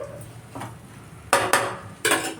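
Cucumber curry being stirred with salt in a pan: a spoon scrapes and clinks against the metal several times, with a few sharper knocks toward the end, close and alone.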